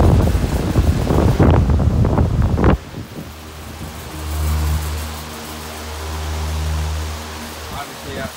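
A 1995 Patton U2-20CW 50th anniversary fan switches on at its high setting: a loud breezy rush drops away, then a low motor hum with a steady airy whoosh rises as the blades spin up.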